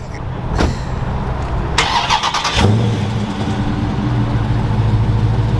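A Dodge Daytona's engine cranks over and starts, then settles into a steady idle, close and loud, with a brief burst of high rattling around the catch.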